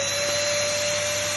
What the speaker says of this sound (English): switch on the vacuum machine